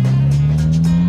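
A car engine roars steadily with a strong low drone, revving hard as it accelerates close by, a continuous powerful rumble with no talking.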